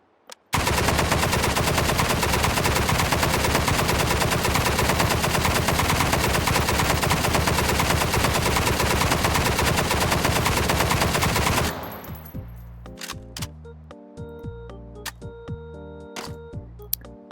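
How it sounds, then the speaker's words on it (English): Machine gun fire in the virtual reality shooter H3VR, a long, loud, unbroken automatic burst lasting several seconds, then stopping, followed by scattered clicks and metallic handling sounds. "That was the machine guns"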